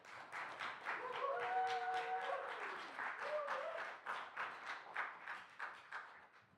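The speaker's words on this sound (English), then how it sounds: "a round of applause for Emma, please." An audience applauds a poet at a literary quiz event, with clapping that swells, carries faint whoops or cheers in the middle, then thins into scattered separate claps.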